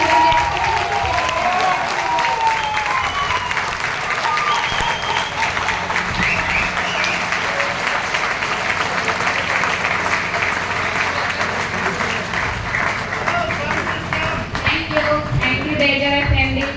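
An audience at a Jashan 2025 event in Ranchi claps steadily along with loud music, dense rhythmic applause filling the whole stretch with crowd noise underneath.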